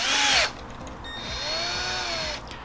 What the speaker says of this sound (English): put in the drill, gently spin it down